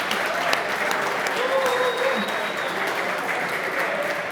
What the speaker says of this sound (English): I am very, very thankful for this applause.